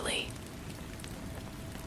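Gentle rain falls steadily with a soft, even hiss throughout, quiet and continuous, with a brief brighter patter at the very start.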